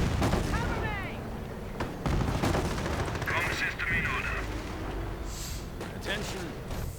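Gunfire in a World War II strategy game: a tank and Browning automatic rifles fire in scattered bursts and single shots under continuous commentary, with explosions and battle noise mixed in.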